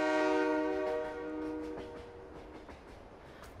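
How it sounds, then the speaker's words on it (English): A train passing in Farming Simulator 22, with a sustained horn-like harmonic tone at first that fades into rolling rail noise and scattered clicks, fairly loud and steady, with no talk. "Oh, here comes the train."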